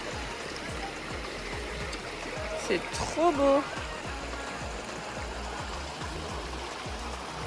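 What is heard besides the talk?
small river stream flowing during a hike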